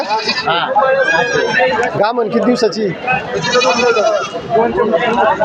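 At a busy livestock market in Shirur taluka, Pune district, several goats bleat repeatedly nearby, overlapping with people talking close by.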